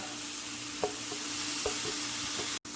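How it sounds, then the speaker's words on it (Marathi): A spoon stirs grated cucumber into a semolina batter for a Marathi cucumber rava cake, making a short, wet, squelching scrape under a steady background hiss, with a few soft strokes and no voices. "हे सगळं मिश्रण आपण परफेक्ट मिक्स करून घेणार आता"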